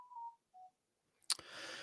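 A phone goes off: two short electronic tones, a pause, then a sudden loud burst of noise that keeps going.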